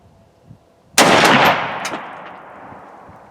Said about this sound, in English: Safety is off, and we're going to shoot at 25 yards with iron sights.